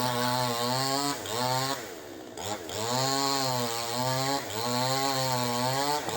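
A chainsaw roars steadily while cutting through tamarind wood, its engine pitch dipping and rising as it bites in, loud and close.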